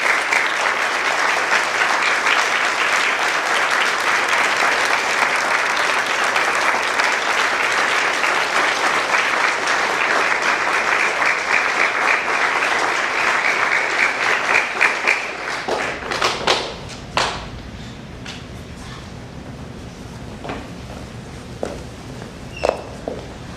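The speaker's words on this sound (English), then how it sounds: "Please join me in a round of applause for Troop 198's newest Eagle Scout." An audience in a ceremony hall applauds Troop 198's newest Eagle Scout, steady dense clapping for about fifteen seconds that then thins to scattered claps and shuffling footsteps.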